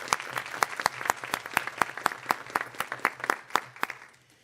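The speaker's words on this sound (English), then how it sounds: "Let's give them all one more round of applause." An audience at a State Board of Education meeting applauds, a thin scattering of close, distinct hand claps in an uneven rhythm that tapers off toward the end.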